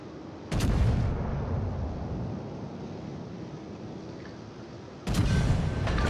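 Naval gun salvos in the World of Warships video game: two heavy, booming blasts about four and a half seconds apart, each with a sharp onset and a long rumbling, wind-like tail that fills the gap between them.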